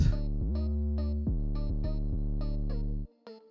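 Deep 808 bass line sliding between a few sustained low notes with bright plucked melody notes above, a short pause near the end before a final note; loud and upfront, no talking.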